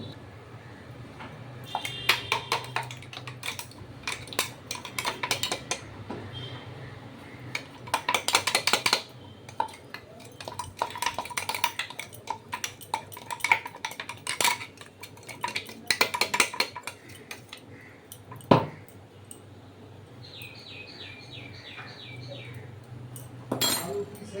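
Paste is mixed into a boiling pan while making mango modak sandesh, with intermittent metal clinks and scrapes of a utensil against the pan, close by, and a brief tonal voice-like sound near the end.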